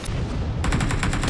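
Rapid gunfire in a shooter video game: a steady burst of repeated shots kicks in partway through and keeps going, loud and close over a constant backdrop of game noise.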